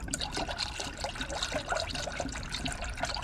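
Coolant trickles and dribbles through a spill-free funnel into a Toyota RAV4's cooling system, a steady close liquid gurgle with small splashes and no talking.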